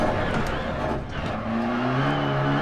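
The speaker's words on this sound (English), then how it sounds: "It also sounds like I've got a tyre out." A rally car with a punctured tyre in DiRT Rally on the Pikes Peak hill climb, engine droning loud and steady with rising revving tones, no voices.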